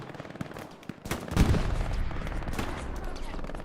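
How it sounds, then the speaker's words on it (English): MG42 machine gun fire in the World War II shooter Hell Let Loose on a causeway roadway, rapid bursts building into sustained loud rattling fire mixed with distant battle noise, a voice talking over it. "the MG42 is just dominating the roadway right now"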